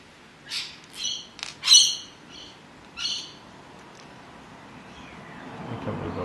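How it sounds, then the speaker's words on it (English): Birds call outdoors during model steam engine assembly: several loud harmonic squawks and chirps in the first two seconds, another call near three seconds, then a fainter background hum. "bird sounds."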